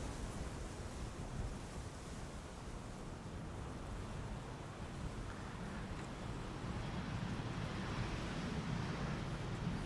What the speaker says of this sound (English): Right now it feels like the wind's picking up again.